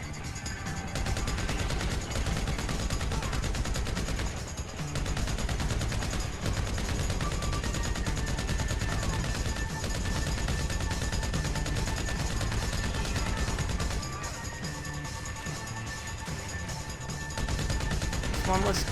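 Minigun fire in GTA V, during a Sandy Survival wave, roars as a loud, continuous stream of rapid shots, broken only by a couple of brief pauses.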